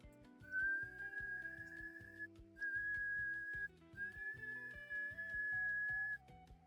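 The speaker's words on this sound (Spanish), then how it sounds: "No se silba así, viendo entre los árboles a esta hora, no se silba." A person whistles a tune in three long, clear phrases over rhythmic background music, fairly close and steady.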